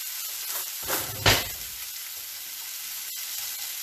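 Garlic frying in oil for a lemon aioli, a soft steady sizzle with a brief burst of hissing as it is stirred, then a low fry continuing, no talking.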